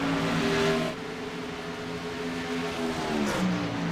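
NASCAR race cars from the iRacing sim game race at the 2011 Coca-Cola 600, their engines droning in a sustained, pitch-shifting roar as cars pass, with no talking.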